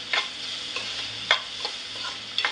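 A spoon scrapes and stirs hing and turmeric in a pan for fenugreek bhaji, making a few soft, irregular scrapes over a quiet background with no talking.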